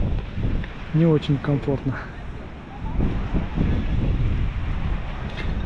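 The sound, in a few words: strong wind at the seaside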